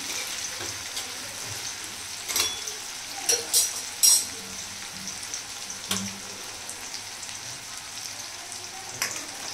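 Onion sautéing in a pan, a steady soft sizzle and hiss running throughout with a few brief scraping stirs and light clicks, close and fairly quiet, with no talking.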